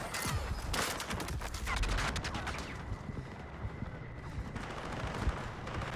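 Sustained gunfire in the battle game Battlefield, dense bursts of rapid shots cracking close and far at once, with heavier volleys early on and a steady barrage continuing throughout.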